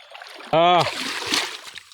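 River water splashes around a mare being bathed in a stream, a brief slosh and splatter beneath a short animal-like call, with voices nearby.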